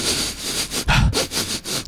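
A person pretending to be a truffle pig sniffs in quick, close, rhythmic bursts, with one louder, heavier snort in the middle and no talking.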